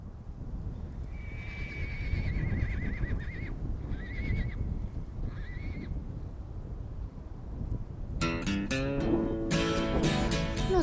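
Horses at a cutting-horse ranch in Purcell, Oklahoma whinny several times at mid distance over steady outdoor background noise, followed by a louder, sharper burst of neighing near the end.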